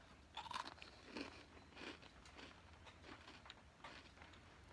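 Someone biting and chewing a crunchy cookie up close, with a sharp crunch at the first bite followed by a run of softer rhythmic chewing crackles, all quiet and without talk.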